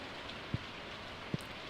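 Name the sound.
rain in video game Stardew Valley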